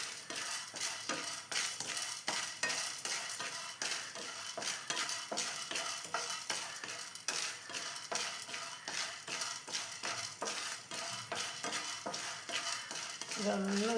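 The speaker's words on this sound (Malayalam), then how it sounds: "അപ്പം ഇനി ഇതും കൂടി വറുത്തിട്ട് ഈ കൂട്ടത്തിൽ ഇടും" Chana dal or toor dal dry-roasting in a pan for idli and dosa podi gives a continuous, close rattle and scrape as a spoon stirs it briskly and steadily, with no talk.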